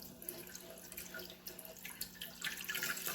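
Water runs and splashes steadily for a few seconds, growing a little louder toward the end, like liquid poured from a container into a vessel.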